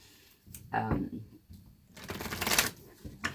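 Tarot cards being shuffled during a karmic-partner reading: bursts of riffling and snapping cards come in uneven waves, close and fairly loud, with a voice talking softly in places.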